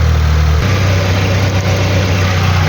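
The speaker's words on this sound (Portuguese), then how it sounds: "Agora ele ligou a ventoinha" A car engine idles steadily, loud and close. After about half a second a radiator cooling fan switches on and adds a constant whirring hum. The drone carries on unbroken to the end.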